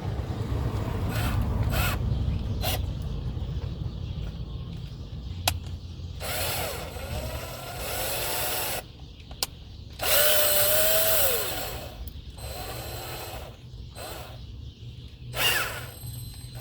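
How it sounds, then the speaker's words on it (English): An electric drill with a bit whines in several bursts of varying length, separated by short pauses and background noise. "I wonder if I can get it just with a drill bit and drill it out."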